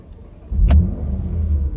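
A Porsche Macan GTS engine cranks and fires after a key turn, a short starter burst settling into a steady low idle rumble, close and fairly loud, with no talking.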